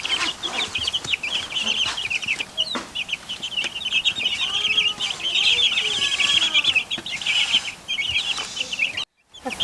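A mixed flock of broiler chickens and laying hens in a backyard coop gives a steady chorus of soft clucks and chirps, with a few longer, rising calls standing out midway, close and continuous throughout.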